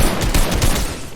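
A burst of rapid gunfire in Fortnite, a dense rattle of close shots packed into about a second.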